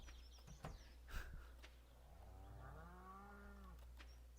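A single drawn-out cow moo from the video game Stardew Valley rises and falls, heard faintly over a steady low hum, preceded by a few soft clicks and thumps.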